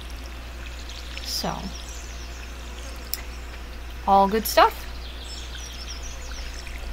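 A watering can pours water on crops in the farming video game Stardew Valley: a quiet, steady splash under a faint ambient bed, with someone talking over it and brief chimes midway.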